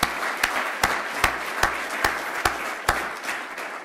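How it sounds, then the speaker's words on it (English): Conference audience applauding the sponsors: a steady bed of clapping with a strong, evenly spaced single clap cutting through roughly twice a second. "let's just take a moment and have a round of applause for all of our sponsors"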